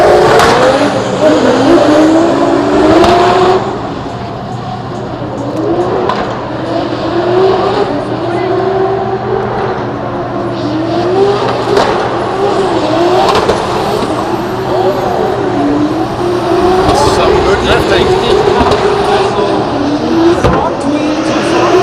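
Drift cars scream through a night practice session at Drift Masters in Germany, engines revving hard in repeated rising sweeps with tire squeal, loud and continuous, while a commentator talks over the action.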